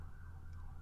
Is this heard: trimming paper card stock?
no